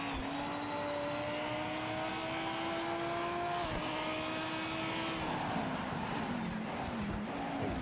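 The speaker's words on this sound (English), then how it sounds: "The GT3 car running around that corner." A GT3 race car in the racing game Project Motor Racing holds a steady, loud engine drone through a corner, the pitch easing and dipping as it shifts down and slows, with no talk over it.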